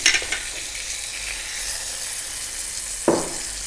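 Potatoes for Christmas roast potatoes dropped into a hot pan, a sharp initial splash and sizzle followed by a steady hissing fry, with a second brief burst of spitting near the end, close and alone.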